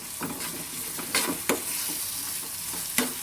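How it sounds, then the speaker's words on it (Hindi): Tomato chutney with coriander stirred in an oily pan, a continuous sizzle with several sharp spatula scrapes and knocks against the pan over a few seconds. "अब इसको अच्छी तरह हम मिक्स करेंगे।"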